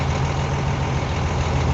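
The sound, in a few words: engine of manual transmission vehicle with air assisted clutch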